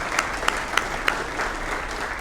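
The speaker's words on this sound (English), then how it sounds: "So please give them another round of applause." Sustained applause from the audience at a high school athletics Hall of Fame induction ceremony, honoring the committee, with a few sharper claps standing out from the steady crowd clapping.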